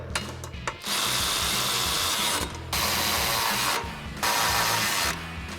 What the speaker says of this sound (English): grab your 13mm socket on a ratchet, and we'll tighten these down